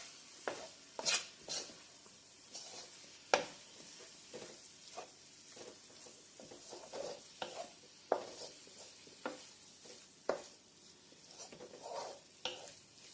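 Spinach and potato saag aloo being stirred in a pan, with soft scraping strokes and light clinks repeating at an irregular pace under a faint sizzle, close and fairly quiet, with no talk.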